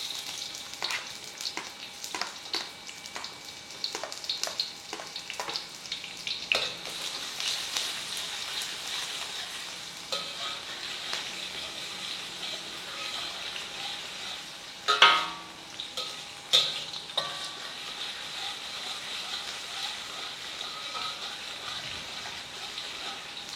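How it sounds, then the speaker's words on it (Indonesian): Onions sizzle as they drop into hot oil in a pan for a spicy chili and anchovy sambal, a crackling hiss with scattered pops and a louder sputter midway. "Oke, minyak kita udah panas. Kita masukkan bawang bombaynya dulu."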